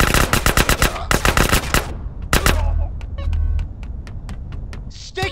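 Rapid bursts of automatic gunfire from a gun in GTA San Andreas, loud and close, in several quick volleys followed by scattered single shots and a brief whistle-like tone at the end.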